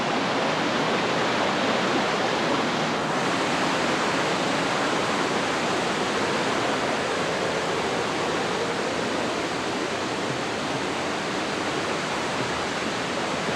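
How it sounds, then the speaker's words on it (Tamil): Steady, dense roar of the Uyilatti waterfall near Kotagiri, a small hidden forest fall, rushing continuously and close at hand with no voices over it. "வாட்டர் ஃபால்ஸ் பேர் உயிலட்டி வாட்டர் ஃபால்"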